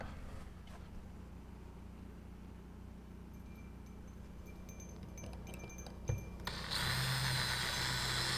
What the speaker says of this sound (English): Get the next hole drilled.